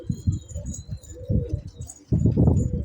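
Soft, low cooing of pigeons close by, in short repeated phrases, with a fuller burst of cooing near the end.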